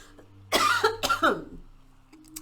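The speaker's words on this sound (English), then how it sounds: "Sorry, I'm going to cough." Two or three sharp, close coughs in a quick burst, followed by a quieter throat clearing in an otherwise still room.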